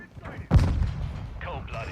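A grenade detonates in Call of Duty Modern Warfare II with a sudden loud blast and a rumbling tail, followed by faint voices calling out in the background.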